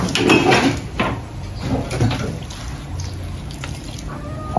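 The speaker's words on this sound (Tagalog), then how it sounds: "Lagyan natin na suka." Vinegar is poured into a cooking pot of pork paksiw, a close, steady liquid trickle with light clinks of pots and utensils and a faint voice in the background.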